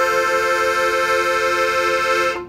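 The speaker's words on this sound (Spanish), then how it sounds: "Este sonido es del acordeón de fa." A button accordion tuned in F sounds one held three-button chord, bright and steady, clearly up close and alone until it stops sharply at the end.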